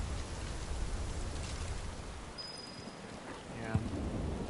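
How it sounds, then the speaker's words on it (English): Steady rain pours in the video game Final Fantasy Rebirth, a continuous broadband hiss of falling water with a few brief chirps and a soft thump near the end. "Now it's raining, as you can see."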